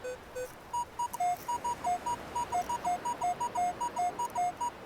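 A Minelab metal detector sounds its target tone over a ring, a run of short repeated electronic beeps alternating between two pitches, fairly faint against outdoor background hiss.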